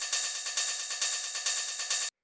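Cymbal group from an industrial techno track: a bright, hissing wash of layered metallic hits pulsing in a steady rhythm for about two seconds before cutting off abruptly, fairly quiet and with nothing else present.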